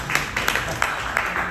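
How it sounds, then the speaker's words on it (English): Scattered audience clapping after a poetry reading, a steady wash of hand claps with a few sharper individual claps standing out, moderately close and continuous for the whole moment. "We'll have to clap."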